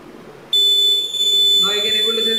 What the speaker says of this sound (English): the gas has been detected, 370, and the buzzer is on.